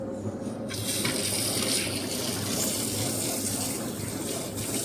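Water gushing steadily from a household tap, a loud continuous rushing stream that starts abruptly and runs unbroken.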